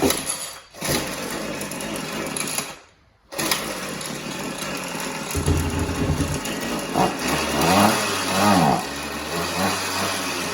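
A small gas string trimmer engine runs after its carburetor has been cleaned. It holds a loud, close, buzzing idle with two brief dips early on, then surges and settles while warming up.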